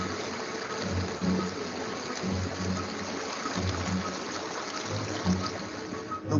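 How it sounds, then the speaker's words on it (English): Steady rushing meltwater flows over and carves through ice, continuous with a constant, even wash and faint gurgles. No voices. "The spill water then carves its way through the ice."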